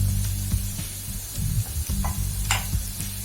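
Garlic and green chillies frying in a pan with turmeric for a spicy pumpkin fry make a continuous loud sizzle, with intermittent spoon stirring and light clicks over it, close by.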